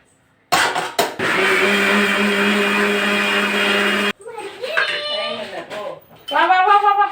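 A kitchen mixer grinder blends grated coconut with water for coconut milk, a loud steady whir lasting several seconds that cuts off abruptly, followed by voices talking and a brief restart of the motor.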